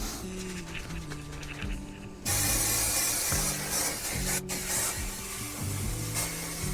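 Aerosol can of spray adhesive hissing onto carpet lining during a DIY campervan floor fit, a steady broadband spray that starts abruptly a couple of seconds in and continues with brief breaks, nearby, over a quieter rubbing start.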